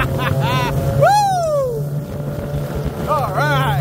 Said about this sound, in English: I'm going against the wind.